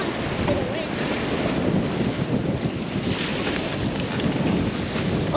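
Wind roars across the microphone while a sailboat moves through lumpy seas off north Queensland, with waves washing and slapping the hull in a steady loud rush throughout.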